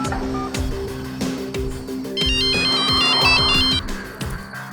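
A phone rings while a call is being placed, its electronic ringtone repeating in bright tonal bursts, loud and close, over faint background clatter.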